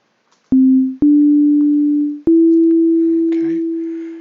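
A synthesizer sounds a pure sine wave from a wave table, playing loud, steady tones that step up in pitch with three sharp onsets, the last note held while faint rustles pass beneath.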